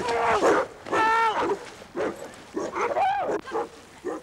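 Black-and-white Landseer Newfoundland dogs, trained for water rescue, bark and yelp in loud, close, rapid bursts with rising and falling tones and short gaps between calls.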